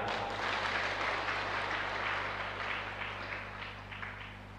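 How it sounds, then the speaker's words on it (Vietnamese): Applause from an audience at a Buddhist dharma talk, a steady wash of clapping that holds at an even level for several seconds before easing slightly toward the end. "Bây giờ mới vỗ tay."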